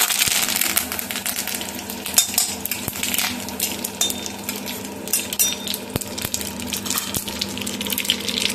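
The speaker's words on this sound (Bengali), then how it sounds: "প্রথমে আমি একটু রাই দিয়ে দেবো, তারপরে একটু কারি পাতা দিয়ে দেবো" Mustard seeds and curry leaves dropped into a hot pan for a Javanese breakfast dish, crackling and sizzling with sharp scattered pops and ticks close by, steady throughout, with no talk.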